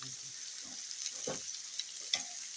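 Bacon frying on a restored Blackstone griddle gives a quiet, steady sizzle and hiss, with a few faint clicks and taps over it.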